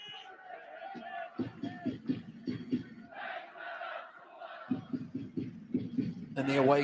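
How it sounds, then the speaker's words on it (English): Small away football crowd at a Pohang Steelers versus Suwon FC match, chanting and rhythmically clapping in bursts, fairly close and steady, with a louder cheer swelling at the end. "the away crowd, in their relatively small number, making a reasonable noise for now"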